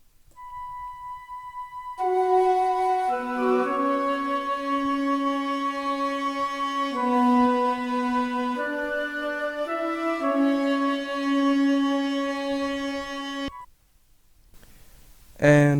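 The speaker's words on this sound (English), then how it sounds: "this is how the two flutes and the horn sounds like" Two layered flute samples and a horn sample play a slow, sustained soul-style melodic phrase of held notes in a hip hop production, starting from a lone tone and ending abruptly before a brief voice.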